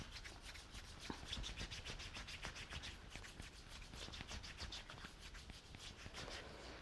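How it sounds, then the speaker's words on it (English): Hands rubbing along the spleen meridian on the body in a self-massage, a steady close, soft brushing friction in rhythmic strokes, continuous and fairly quiet with no talk. "Let's have a little rub of that whole spleen meridian."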